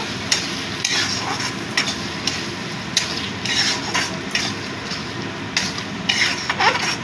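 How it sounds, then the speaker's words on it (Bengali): Fish being stirred and fried with onions in a pan, a steady sizzle running throughout with repeated scraping strokes of a utensil against the pan surface. "পুরো মাছটা দিয়ে দিলাম। এবার ভালো করে মিশিয়ে দেব।"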